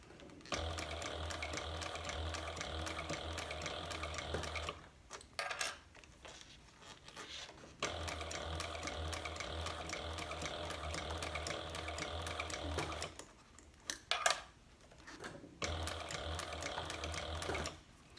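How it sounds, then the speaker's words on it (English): A sewing machine stitches a handbag shoulder strap in long steady runs of rapid, even mechanical clatter, pausing twice for brief handling noises before resuming, close and clear with no talking. "So this machine also has a synchronizer on it, so whenever I stop stitching, the needle is always in the down position."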